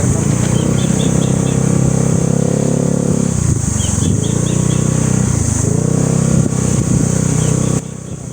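A Honda Mio motorcycle labors up a rough, partly unpaved mountain road, its engine droning loud and close with repeated revving swells and rattling from the uneven surface, with faint birdsong above.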